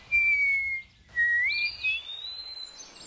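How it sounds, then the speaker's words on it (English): Whistling in clear, sustained tones, a few gliding and wavering notes with short pauses, close and fairly loud over faint background. "When we had something to say,"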